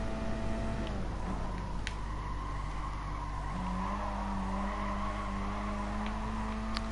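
Gr.4 race car engine at Mount Panorama in Gran Turismo Sport, a steady, fairly quiet drone with pitch shifting through gear changes and faint tyre noise, no talking.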